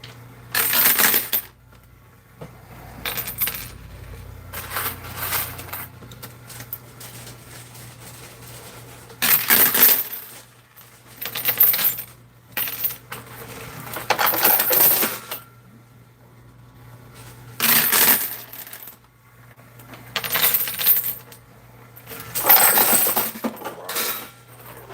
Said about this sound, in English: coins, quarters.